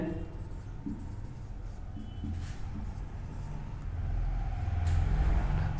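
A teacher writes a definition on a classroom board, giving steady scratchy strokes over a low background rumble, with some voice underneath.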